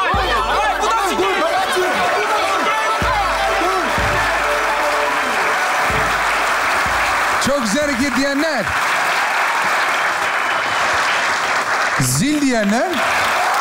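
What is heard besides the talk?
studio audience applause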